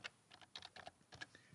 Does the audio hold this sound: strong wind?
no